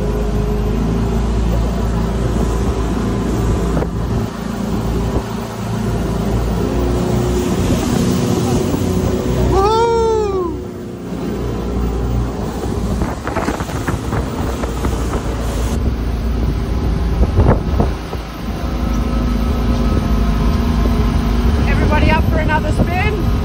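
A jet boat races across open water, its engine roaring steadily under loud, continuous wind buffeting the microphone. A brief whistling sweep cuts through midway, and no words are spoken.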